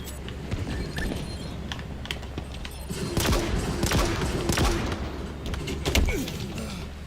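Sniper rifle gunfire in Halo Infinite multiplayer, several sharp cracks amid clattering game effects and background action, fairly loud and spread across the clip.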